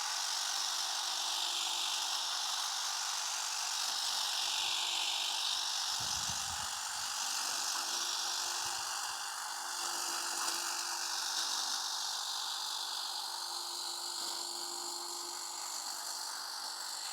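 Cordless SeeSii 6-in-1 pole saw or pole hedge trimmer running over a garden tree, a steady high motor whine with a buzzing drone, moderately loud, and a brief rustle of branches around the middle, with no voices.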